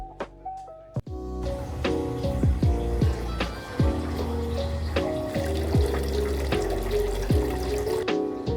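Water runs steadily from a tap into a small sink in a Japanese ryokan, close up, with gurgles and shifting splashes after a short knock at the start.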